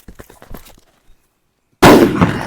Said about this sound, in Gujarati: કેવા ફટાકડા ફૂટે